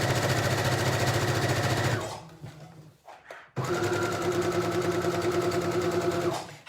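A sewing machine stitches the side seam of an elasticated cotton skirt, with a steady rapid whir. It pauses briefly for a few short securing stitches, then runs again at full speed for the length of the seam before stopping.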